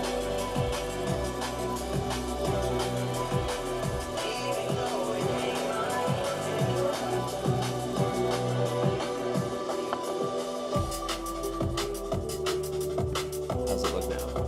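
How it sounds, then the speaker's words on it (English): A full, dense music mix carries a crunchy tape saturation effect, with a steady driving beat and busy layered instruments playing continuously throughout. "What you're hearing is a crunchy ass tape"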